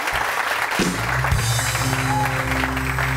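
Studio audience applause on a Pakistani morning talk show, a broad wash of clapping that runs throughout while sustained musical tones rise beneath it.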